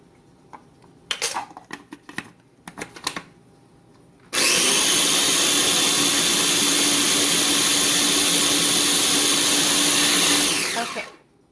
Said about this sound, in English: Okay, I think that's blended well enough